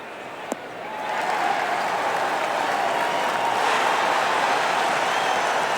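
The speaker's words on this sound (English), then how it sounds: "You don't need much to fire up this crowd, but that one will get them on their feet." Golf gallery cheering and applauding after a shot, a sharp club strike followed by a swelling, sustained roar of clapping and shouting from a large crowd, continuous and loud.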